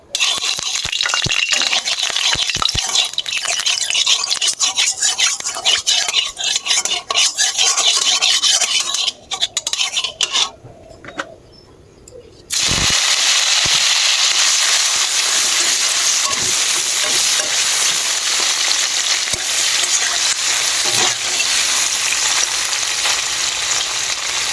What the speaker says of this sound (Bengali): পনিরগুলো ভাজবো।